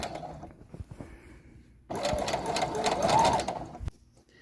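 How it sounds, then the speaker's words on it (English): A sewing machine stitching fabric, starting after a couple of quiet handling clicks and running in a steady, fast, close-up whirring chatter for about two seconds before stopping abruptly. "we're going to go ahead and start our stitch here"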